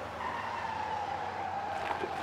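In the video game Motor Town, a tow truck pulling a bus brakes hard, its tires giving a sustained squealing skid over a low engine rumble, fairly faint and without talk.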